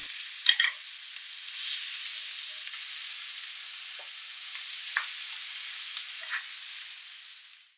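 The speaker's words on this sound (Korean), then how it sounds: "준비된 모든 야채를 넣고 1분에서 1분 30초 정도 볶아요" Vegetables stir-fried with the white part of scallions for a garlic shrimp rice bowl sizzle and hiss steadily in a pan, a continuous frying crackle with a few brief clinks and stirring scrapes.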